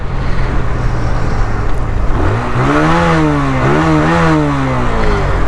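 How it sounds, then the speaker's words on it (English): A 2023 TVS Apache RTR 160 2V motorcycle engine idles, then revs up twice with a deep, bass-heavy exhaust note, loud and close. "that's the bass heavy exhaust note."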